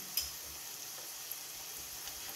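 Corn and banana beignets fry in hot oil with a steady, soft sizzle and a few faint pops and crackles, heard alone at low volume.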